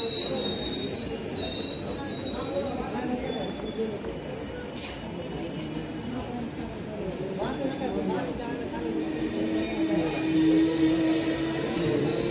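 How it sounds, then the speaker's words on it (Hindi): Train pulling into Patna railway station, wheels squealing steadily on the rails over a busy platform din, with people talking throughout. "ट्रेन आ चुकी है"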